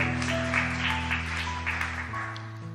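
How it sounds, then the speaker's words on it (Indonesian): A church congregation gives a short burst of applause for God, moderate clapping from many hands over a sustained musical drone from instruments playing beneath. "Kasih tepuk tangan dulu buat Tuhan"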